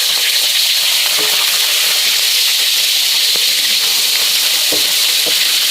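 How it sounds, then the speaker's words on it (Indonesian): Marinated chicken fries in hot cooking oil, giving a steady, loud, close sizzle and hiss with small crackles and pops scattered throughout. "Tinggal aku goreng."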